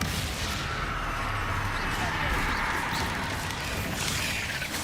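Spells burst and crackle in the Hogwarts Legacy video game, a dense continuous barrage of blasts and whooshes with combat noise throughout, loud and unbroken.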